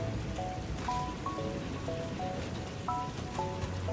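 Steady rain falling in the video game Satisfactory, a soft continuous patter and hiss with faint tonal beeps drifting over it, evenly spread and fairly quiet throughout.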